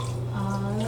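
Water pours steadily into a pot on a kitchen stove, a continuous close splashing stream with no pauses.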